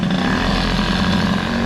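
A Peugeot 103 moped with an air-cooled Airsal 65 kit and MVT premium ignition running after a restart, a steady, loud two-stroke drone with a strong low hum and no pause across the short stretch.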